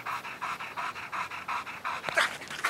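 A dog pants rapidly and steadily at close range during a training session, its quick rhythmic breaths repeating about five times a second, with a brief louder huff near the end.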